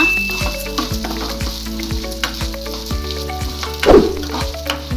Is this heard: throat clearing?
no